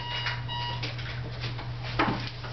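An alarm sounds during an indoor makeup session: faint, steady electronic tones ring over a low constant hum, with a few soft clicks, and no one speaks.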